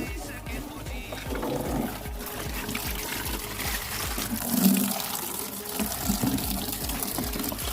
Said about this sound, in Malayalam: നമ്മളിപ്പം പൈപ്പ് വെള്ളമാണ് കേട്ടോ ഉപയോഗിക്കാറ്